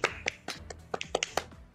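Hands clap in quick, slightly uneven bursts, roughly eight sharp claps in under two seconds, close by and fairly quiet.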